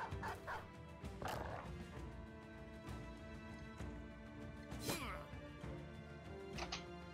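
Dogs barking in the video game BB the Blazing Desert, several quick yaps and woofs over a busy game soundscape with impacts and clatter.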